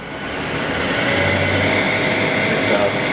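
The spindle of a Haas vertical machining center spins up past 3,500 RPM, giving a loud, steady broadband whir that swells slightly at the start and holds throughout.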